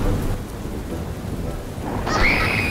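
Steady rain pours down through a cartoon thunderstorm, a continuous broadband wash with low rumbling, joined near the end by a brighter, sustained high tone that rises over the storm.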